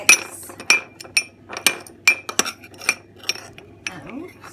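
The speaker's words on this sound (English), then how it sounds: "Give that a mix." Spoon clinking against a bowl while red wine vinegar and chilli powder are mixed, a run of irregular sharp taps and scrapes close up, some louder strikes among lighter ones.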